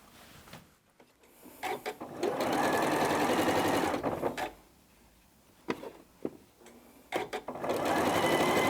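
A sewing machine stitches scant quarter-inch seams on quilt blocks in close bursts, with rapid mechanical chatter that starts and stops several times. Quiet pauses and small handling clicks come between the runs.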